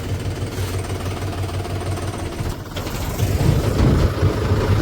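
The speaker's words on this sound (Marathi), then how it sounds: "माझा भाऊ चालवत आहे ट्रॅक्टर" A tractor engine running while the tractor is driven on a farm, a loud, steady, rumbling chug that grows slightly heavier near the end, with no talk.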